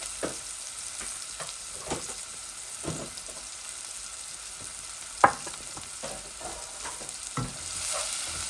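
Onions, two kinds, frying in a pan for a hilsa fish and red radish curry: a soft, steady sizzle with occasional stirring scrapes and one sharp clink, no talking.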